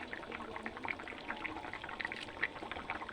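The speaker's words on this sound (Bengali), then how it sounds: "ভেজে রাখা মাছগুলো দিয়ে দিচ্ছি" A simmering fish curry bubbles and sputters quietly as fried fish pieces go in, a soft continuous patter of small pops and liquid sounds.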